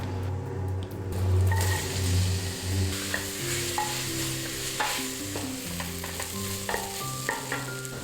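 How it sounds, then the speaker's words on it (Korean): Onions sizzle and crackle in a hot pot while a utensil stirs and scrapes steadily, with occasional light clinks, and nobody speaks. "같은 냄비에서 기름을 살짝 두르고 양파를 볶아줄게요"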